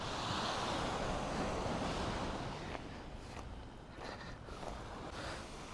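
Large ocean waves break and wash steadily onto a beach at Futtsu on Tokyo Bay on a calm day, a continuous loud roar of surf close by with no voices.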